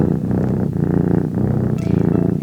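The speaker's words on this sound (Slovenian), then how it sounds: "Dokler niso spet zaslišali še glasnejšega brnenja." A cat purrs loudly and close in a rhythmic rumbling cycle, each breath in and out marking a steady pulse, heard alone without any talk.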